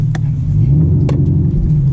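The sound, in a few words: Chevrolet Camaro ZL1 1LE engine revving while driving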